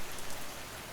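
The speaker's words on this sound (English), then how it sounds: "Outside, the rain deepened its rhythm, like a steady voice telling a story that never quite ended." Steady rain falls outside a cabin at night, a dense, even hiss of drops with no voices, close and continuous throughout.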